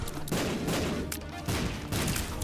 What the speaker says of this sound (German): Wieso explodiert denn hier alles?